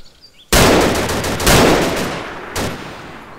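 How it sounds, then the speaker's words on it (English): Loud, close gunfire in DayZ: a sudden burst of rapid automatic shots that keeps rolling, with a second heavy volley partway through and a final crack near the end, no talking over it. "I'm shooting."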